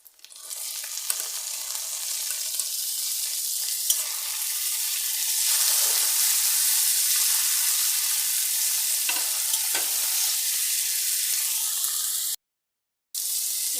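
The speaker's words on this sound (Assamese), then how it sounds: "বিলাহীখিনি সিজিছে ধুনীয়াকৈ।" Tomatoes cook in hot oil in a pan for a rohu fish and cauliflower dish, a loud steady hissing sizzle with occasional stirring scrapes, briefly cutting out near the end.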